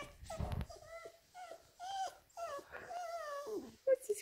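A dog whimpers and whines in a series of high, drawn-out plaintive cries with short gaps between them, close and fairly quiet, with a brief rustle near the start.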